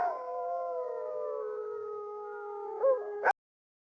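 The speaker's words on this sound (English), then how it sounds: "when they howled, people described it as unnatural" A single long, wavering wolf howl, clear and close, with layered tones holding steady for about three seconds before rising briefly and cutting off abruptly into silence.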